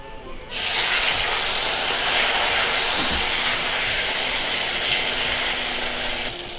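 Tomato dropped into hot oil tempered with a bay leaf and two dried red chillies bursts into a loud, sudden sizzle that keeps hissing steadily and close, with no speech.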